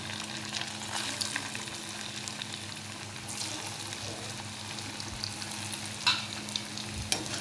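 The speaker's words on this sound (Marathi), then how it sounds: "आता हे केलेले आहेत ना, हे पण मस्त तळून घेते उलटून पलटून." Fasting-style kachoris deep-frying in oil and being turned over, a steady moderate sizzle with a few sharp clinks and scrapes from the utensil flipping them.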